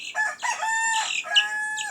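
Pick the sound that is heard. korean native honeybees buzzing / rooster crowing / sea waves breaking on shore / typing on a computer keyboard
rooster crowing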